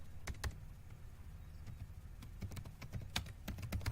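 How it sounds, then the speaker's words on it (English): Typing on a computer keyboard, a quiet scatter of light key clicks in irregular bursts over a soft background hum. "type your message like I am typing"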